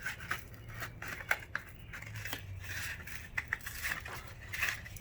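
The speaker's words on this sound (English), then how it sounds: "I just used my scissors and I cut one of these segments out of the egg carton." Scissors snipping a segment out of a cardboard egg carton, a quiet close series of irregular crisp cuts and crunches, several in quick succession.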